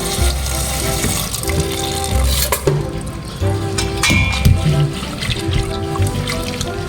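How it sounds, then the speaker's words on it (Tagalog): Banana blossoms washed under a running kitchen tap, with water splashing and trickling steadily into a sink while the pieces are handled and a few light clinks sound, close and fairly loud throughout. "hugasan natin ang banana blossoms"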